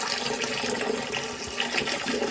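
A cabin water closet toilet flushes, a steady close rushing gurgle of water draining down for a couple of seconds, moderately loud and alone.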